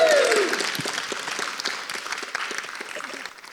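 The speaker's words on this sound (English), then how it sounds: "Can we get a round of applause?" Audience applause at an evening celebration of Welsh teachers in the Senedd: steady, dense clapping that is loud at the start and slowly thins over a few seconds, with no talk over it.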